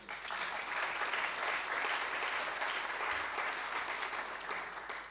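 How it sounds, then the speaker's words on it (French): Sustained applause from a conference audience at a 2013 tax-haven colloquium, dense steady clapping filling the room for several seconds with no voices over it. "Vous avez raison d'applaudir maintenant"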